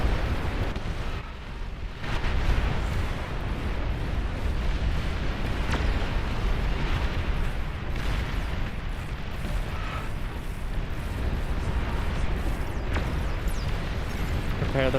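Rocket strikes and explosions from a large-scale real-time strategy battle in Beyond All Reason, a dense, continuous rumble with repeated bursts and pops layered over one another throughout.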